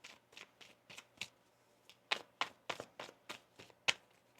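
Tarot cards shuffled in a quick series of soft, papery riffles and snaps, irregularly spaced, close up with no talking.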